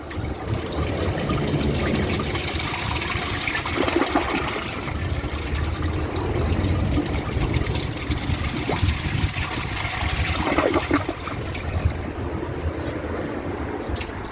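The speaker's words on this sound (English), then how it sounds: "let's give it a flush and do some tests" A clogged toilet flushing, a long continuous rush and gurgle of water that stays loud and steady throughout, with no talking.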